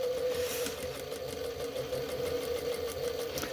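A sewing machine hums steadily with a fast, even mechanical stitching rhythm while sewing a Christmas decoration, fairly quiet and close, no voices.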